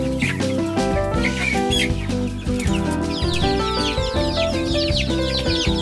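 Chickens in a coop eating feed mixed with enzyme water, a dense, loud chorus of clucking and chattering hens close by, continuous and busy throughout.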